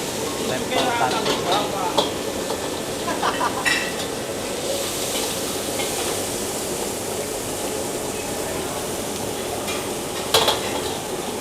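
Hainan fried rice stir-fried in a wok, a steady loud sizzle with scraping and clanking of the spatula against the metal, close up and continuous, with a sharper clatter near the end.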